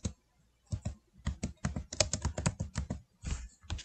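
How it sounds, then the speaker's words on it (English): Keys clatter on a computer keyboard in quick, uneven bursts of close, crisp taps, pausing briefly between words as text is entered, with no voices. "we're going to type in what we want it to say."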